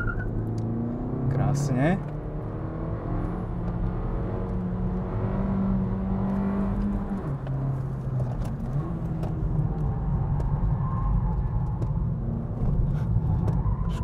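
A Suzuki Swift Sport launching hard from a standstill, its engine revving up through the gears with a rising whine and a brief drop at a shift, heard from inside the car, with a driver speaking briefly.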